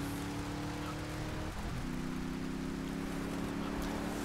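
Heavy rain in GTA Vice City Remastered: a constant, dense hiss of downpour with a low steady hum beneath it, loud and unbroken throughout.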